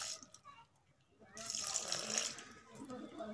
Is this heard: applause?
no